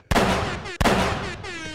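Two loud gunshot sound effects fire in quick succession, each a sharp close blast followed by a ringing, echoing tail that fades.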